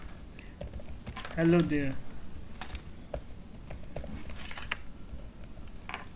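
Typing console.log code on a computer keyboard: a steady run of light, close clicking keystrokes, with a short spoken greeting near the start.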